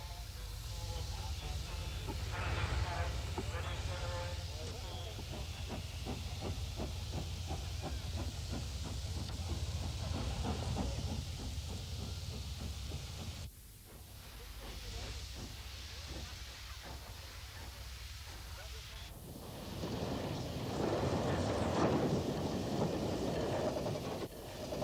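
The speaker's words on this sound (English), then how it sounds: "One of the many trains that passed through Clapham" Steam locomotive built by the Southern Railway passing through Clapham Junction, heard as a steady, loud hiss and rumble with a rapid rhythmic chuff and wheel clatter. The sound carries on for about twenty seconds, cutting out briefly midway and then surging back with a broader rushing noise.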